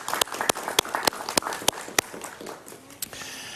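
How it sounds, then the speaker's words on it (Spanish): A small studio audience gives brief, lukewarm applause: a handful of separate sharp claps spaced irregularly over a few seconds, close and sparse, fading toward the end. "somos pocos y aplaudimos tibiamente"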